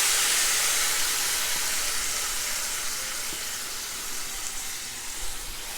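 Tomatoes hit a hot pan of garlic and set off a loud, broad sizzle right away. The hiss fades a little as it settles, with a few faint clinks toward the end.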